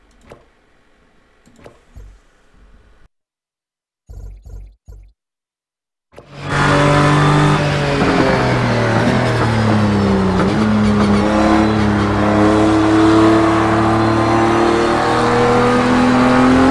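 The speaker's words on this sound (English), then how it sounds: "I'm going to mute my mic so you can actually hear the tires breaking free" Race car tires break free and scrub in the racing video game Project Cars 2, over a loud, steady engine drone. The slide noise starts abruptly after a few seconds of near silence broken by faint clicks and short bursts of sound.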